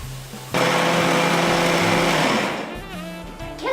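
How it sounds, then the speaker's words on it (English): An electric mixer jar blends roasted ingredients into a paste for Indian matar paneer. It starts abruptly as a loud, steady whir, holds for about two seconds, then winds down. "So I'm just gonna transfer all the ingredients into this mixing jar and make it into a nice paste"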